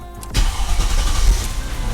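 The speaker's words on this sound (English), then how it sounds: "we can start the engine" A flood-damaged 2005 Mercedes CLK500 engine cranks and catches, settling into a steady, close, loud idle rumble with no talking.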